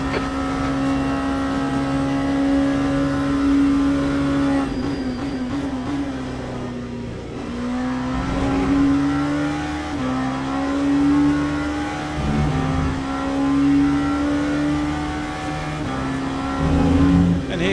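Race car engines in Le Mans Ultimate during a multiclass sprint race, a loud high engine note climbing through gears with shifts and braking dips, passing cars mixed in, brief speech over it.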